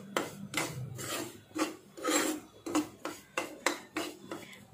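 Semolina roasting in a pan for halwa, stirred with a utensil in repeated scraping, rasping strokes against the metal, about a dozen close, distinct scrapes in an uneven rhythm with no talking.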